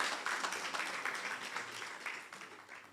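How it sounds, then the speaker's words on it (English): An audience claps steadily for panelists at a media exhibition event, the dense applause holding at an even, fairly loud level throughout with no voices over it. "I just want the audience to give a round of applause for all our panelists"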